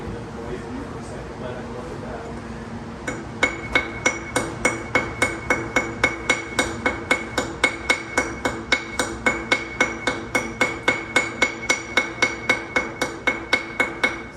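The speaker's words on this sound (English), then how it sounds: "use this carbide bush hammer to peck and take down all the high spots" A steady, rapid series of sharp metallic pecks rings out, evenly spaced blows of a carbide bush hammer on a millstone continuing after a quieter stretch at the start.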